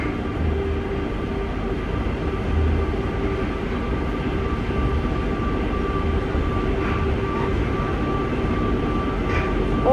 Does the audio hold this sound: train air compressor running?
yes